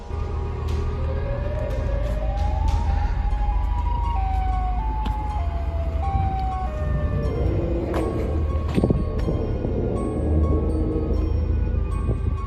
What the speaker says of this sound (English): he hears a siren